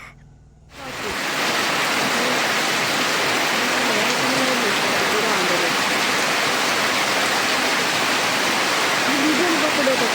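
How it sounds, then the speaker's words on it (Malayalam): Heavy rain pours down outside at night, a dense, steady hiss that starts abruptly after a brief quiet moment and continues loud and unbroken. "പുറത്ത് നല്ല മഴ നടക്കുകയാണ്."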